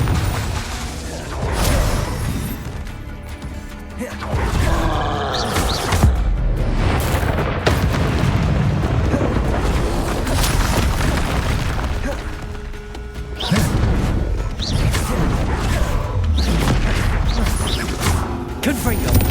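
Confringo blasting spells explode repeatedly during Hogwarts Legacy gameplay, with loud booms and crashes set against busy game music and effects across the whole stretch.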